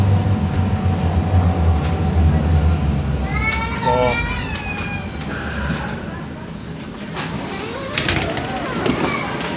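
Ride aboard a U79 light rail train in the Duisburg–Düsseldorf area: steady low rumble of the moving car, a brief squealing tone midway, and voices and ambient cabin noise throughout.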